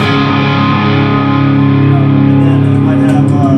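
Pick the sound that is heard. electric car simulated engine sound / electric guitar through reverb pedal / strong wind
electric guitar through reverb pedal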